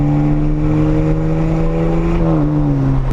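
A catless BMW N54 135i 1 Series with inlets revs hard and loud, its strong steady engine drone holding high then dipping slightly near the end, close and continuous with no talk.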